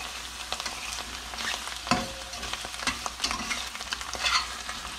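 Wild mushrooms frying in a pan for garlic parmesan pasta, a crackling sizzle with frequent stirring taps and scrapes, close and fairly quiet with no talking.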